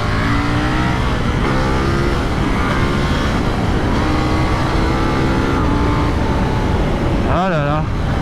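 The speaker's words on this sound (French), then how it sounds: "cette moto est toujours aussi dingue, hein, la petite KTM 890R" A KTM 890R motorcycle accelerates hard on a wet road, its engine note climbing loud and close through steady gear pulls, with road and wind noise throughout and a brief voice near the end.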